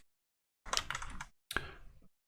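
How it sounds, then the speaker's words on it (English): Two short bursts of fast typing on a computer keyboard sound close and crisp, with a brief pause between them. "if I start typing call, it says,"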